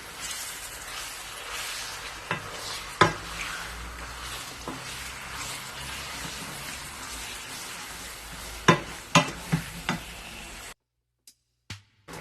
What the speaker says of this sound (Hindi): इस कीमे को 3-4 मिनट मैं इस घी में फ्राई करूंगी